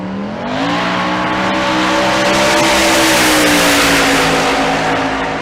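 Diesel truck launching hard down the drag strip at Bandimere, a loud, sustained engine roar whose pitch climbs steadily through the run and carries on to the end.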